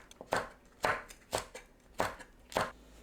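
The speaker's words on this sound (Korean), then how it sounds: "파, 청양고추, 홍고추는 둥글게 썰어줍니다." A knife slices green onion and green and red chili peppers into rounds on a cutting board, with five crisp, evenly spaced chops, close and clear, with no talking.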